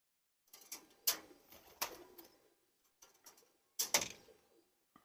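Kamgar pigeons cooing nearby in short, separate bursts, four or five soft throaty calls spaced across a few seconds with quiet gaps between, no talking.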